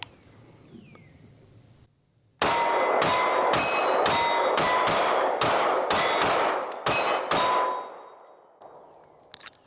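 Pistol shots fired one after another while alternating across three targets, about a dozen sharp reports in a quick, steady rhythm with metallic clangs and pings from steel plates, loud and close, followed by quieter ringing and handling noises.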